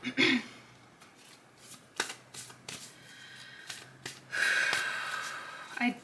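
A deck of tarot cards being shuffled at close range, with bursts of riffling and flicking separated by quieter pauses and some breathing.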